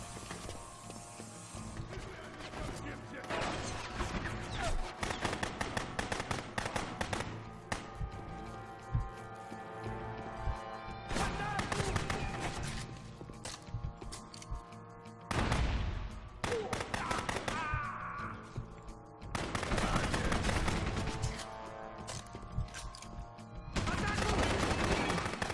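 Gunfire in the video game Rogue Warrior: rapid mechanical bursts and rattling volleys come in clusters over about half a minute, loud and close, with some talk between the bursts.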